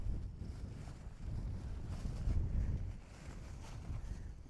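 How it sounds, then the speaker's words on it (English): Wind blows into a microphone outdoors on a windy day, giving a steady low rumbling buffet with gusts that swell and ease, and no voices. "Ooh, it's windy today."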